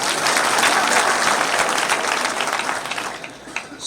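An audience claps continuously at a public gathering. The applause is loud and dense at first, then thins and tapers toward the end, with scattered individual claps standing out.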